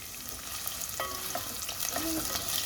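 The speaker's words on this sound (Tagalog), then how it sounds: "Lagay ko na din ang aking onion." Onion sautéing in a pan for chicken tinola gives a dense close sizzle with light stirring scrapes, and no one speaks.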